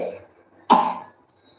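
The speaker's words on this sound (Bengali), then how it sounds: "কাশি হয়ে যাচ্ছে" A young girl gives a single short, close cough after a moment of near silence, with a faint trace of sound just before it.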